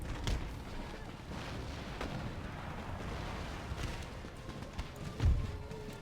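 Gunfire and cannon fire at a breached wall in Empire: Total War, with scattered booming shots and rumbling battle noise, a heavy blast standing out near the end.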